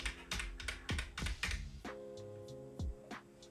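Computer keyboard keys tapped several times in quick succession, close and clear, with a sustained synth tone sounding underneath in a music production setup.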